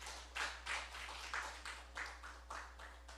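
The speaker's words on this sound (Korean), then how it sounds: "하나님께 영광의 박수 돌리겠습니다" During Sunday worship in a church, the congregation claps in a steady, quick rhythm, with about ten evenly spaced clap bursts heard faintly at a distance over a low electrical hum.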